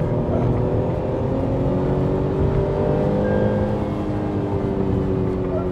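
A 2021 Tata Punch's engine drones and revs steadily, with the pitch rising and sliding as it accelerates, loud and close throughout.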